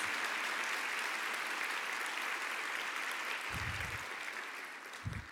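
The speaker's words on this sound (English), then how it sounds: "could we have a round of applause for all of our" Audience applause for event sponsors fills the hall, a steady wash of many clapping hands held at a constant level, tapering slightly near the end.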